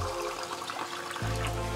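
Water splashes and trickles steadily into a pan of sautéed onions and lentils for sambar, close up, with a continuous liquid pouring sound and no talking.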